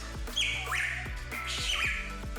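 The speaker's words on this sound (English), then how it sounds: "Now I'm going to head to a bird that you'll likely never have heard about" Hooded pitohui of Papua New Guinea calling, a series of loud, repeated squawking notes with sliding whistled tones, close and clear over a low rhythmic background thumping.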